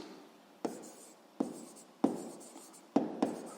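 Pen or chalk writing out a sixth-grade math solution: four separate bursts of scratchy strokes, each a sharp tap followed by a brief scrape, close and quiet in an otherwise silent room.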